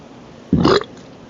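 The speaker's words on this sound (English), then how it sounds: "Oh, that was a nasty burp, excuse me." A single loud, close burp from a man rasps out for about a third of a second, then leaves a quiet room.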